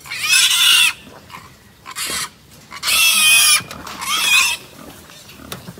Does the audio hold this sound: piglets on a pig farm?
yes